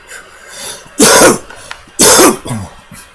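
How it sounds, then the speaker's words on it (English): Two loud, harsh coughs about a second apart, close to the mic, each followed by a quieter wheezy breath. "Forgive me for coughing"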